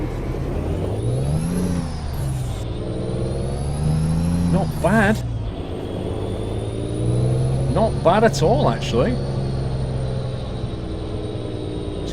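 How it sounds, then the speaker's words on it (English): A truck engine in a trucking video game revs up and down in rising and falling sweeps over a steady idle drone, with someone talking briefly over it. "It's quite nice sounding engine"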